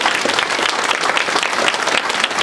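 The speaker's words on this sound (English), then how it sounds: "So let's give them a final round of applause." Applause from an audience at a Quilts of Valor ceremony honoring seated gentlemen, a steady dense wash of many hands clapping, loud and continuous with no voices over it.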